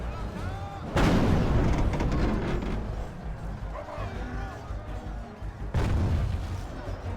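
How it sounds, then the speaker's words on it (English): Heavy booming blasts from a Dragon's Breath cannon in a Total War siege battle, two loud bursts with a rumbling battle din between them. "Looks like the Dragon's Breath cannon took them out."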